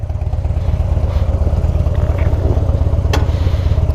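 A Harley-Davidson Dyna Low Rider with a 96 cubic inch Twin Cam V-twin and six-speed gearbox rumbles steadily while riding, a loud, close, lumpy low throb with a short clatter partway through.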